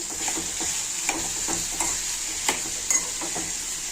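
Mashed apple sautéing in ghee for apple halwa: a steady close sizzle with repeated soft scraping stirs of a spoon in the pan, alone without talk.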